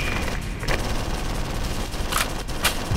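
Gunfire crackles in a video game, with a few sharp bursts of shots standing out over a constant dense background of game noise, without talk.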